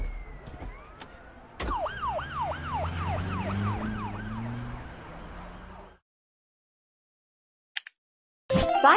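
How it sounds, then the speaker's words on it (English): A police car siren in a children's transport cartoon sweeps up and down in a repeating wail for several seconds, then cuts off into silence. A few sharp clicks follow. "Police car."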